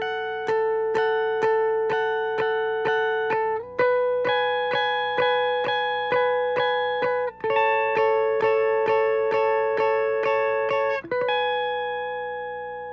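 Clean electric guitar plays sustained chord shapes, one chord ringing over a steady pulse of light rhythmic picks before the next takes over; it shifts chords about every three to four seconds and stays alone and even in level.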